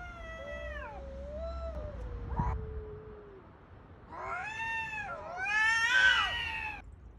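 Cats fight and caterwaul, drawn-out wavering yowls rising and falling, with one voice answering another in louder, harsher wails toward the end, fairly close with no talking.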